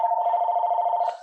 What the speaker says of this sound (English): Bill, is that your phone